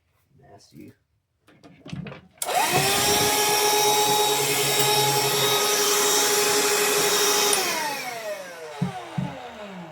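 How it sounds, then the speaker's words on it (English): Vacuum cleaner sucking dust out of a Vornado 133 compact air circulator fan, starting abruptly with a loud, steady whine that holds for several seconds and then spins down, with a voice briefly heard before it starts. "Get my vacuum."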